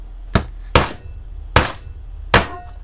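A hammer strikes a leather belt during a repair, with four sharp, separate blows at an uneven pace, each loud and close with a short ringing tail.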